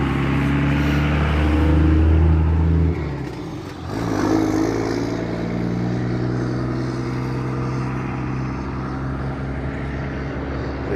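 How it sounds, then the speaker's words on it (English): Vehicles rumble past on a road at sunrise, a loud low engine drone that swells and fades, with a second passing hum following, no voices. "A lot of vehicles."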